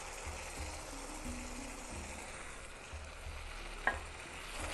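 Cauliflower florets frying in a pan with other nearly softened vegetables, a steady low sizzle running throughout with faint stirring scrapes and one brief sharp clink near the end, no voices.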